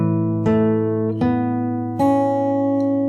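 Fingerstyle acoustic guitar plays a passage from a song: three plucked notes or chords ring out clearly and close, each left to sustain and overlap before the next.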